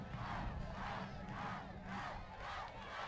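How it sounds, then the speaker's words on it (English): A high school football crowd at a La Joya Palmview versus PSJA Memorial game chants for a touchdown, in rhythmic swelling waves from a large stadium audience heard at a distance, with no voice in front. "Crowd chanting for a touchdown"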